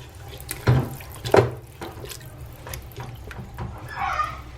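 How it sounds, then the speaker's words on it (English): Tap water pours into a cooking pot for a Zobo hibiscus drink, a close, splashing stream that shifts in pitch as the pot fills, with a few clinks and bumps along the way. "I'll add water, enough to cover your Zobo and all your ingredients."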